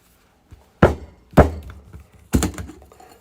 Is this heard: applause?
no